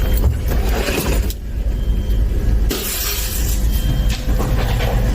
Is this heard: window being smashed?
yes